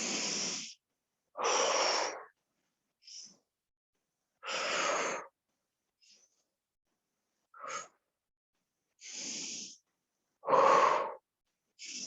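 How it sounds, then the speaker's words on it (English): Deep breaths in and out during a mat exercise class, each long airy breath rising and fading in a steady rhythm with short pauses between, close and clear with no talking. "Inhale up and exhale down. Use your breath."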